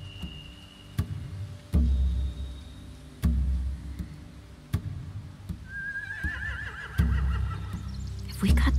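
A horse whinnies in the middle distance in The Walking Dead: The Final Season video game, while heavy thuds and clicks land at an irregular pace, with low rumbling ambience throughout.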